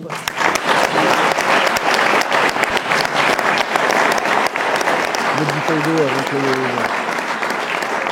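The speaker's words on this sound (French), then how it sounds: "Alors merci à tous de les applaudir." Loud, sustained applause from the audience at a political public meeting in Maubeuge, a dense, continuous wall of clapping held for several seconds, with a voice briefly calling out underneath near the end.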